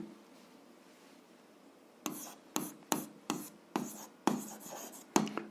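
A pen writes on paper while algebra is worked out: quiet at first, then a run of about eight close scratchy strokes in short bursts, each one brief and rasping, with no voice.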